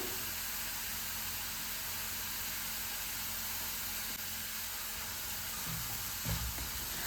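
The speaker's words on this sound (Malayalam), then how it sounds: "അപ്പോൾ നമ്മുടെ ഉള്ളി അവിടെ നന്നായിട്ട് തന്നെ വഴണ്ടി കിട്ടിയിട്ടുണ്ട് കേട്ടോ" Onions sautéing in a pan for a bread and egg dish give a steady, close broadband sizzle with faint stirring clatter near the end, no voices.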